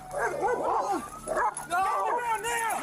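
A police canine unit's dog yips, whimpers and gives short barks in several bursts, heard close and loud and mixed with people talking, as captured on police body camera footage.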